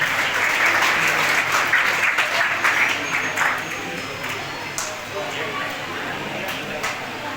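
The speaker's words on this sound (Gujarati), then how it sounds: "તાળીઓથી વધાવો" Applause from an audience at a Babasaheb Ambedkar birth anniversary floral tribute event in Sihor, steady crowd clapping throughout with the sound of a busy gathering.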